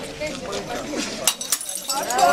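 A glass is smashed for luck at a Polish wedding reception, a couple of sharp crashing impacts amid loud crowd chatter.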